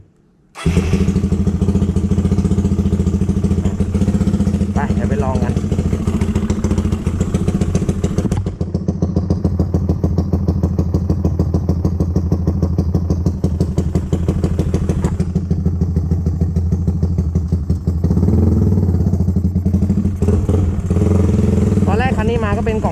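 A carbureted Honda CBR150 motorcycle with its stock ECU starts and then revs continuously up close, a loud, steady engine roar with rising and falling pitch, and someone talking over it.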